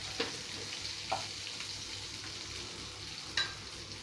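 Roughly chopped onions hit hot oil with bay leaves and black pepper for restaurant-style paneer lababdar, a steady soft sizzle with a few sharp crackles and spoon scrapes scattered through it.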